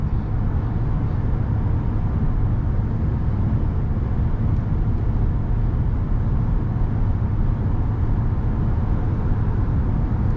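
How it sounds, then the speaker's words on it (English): Heavy pickup truck weighing over 5,000 pounds rolls across a bridge, producing a loud, steady low road rumble and broadband tire noise throughout, with no distinct thumps standing out and no talking. "You can hear how well this truck goes over the bumps."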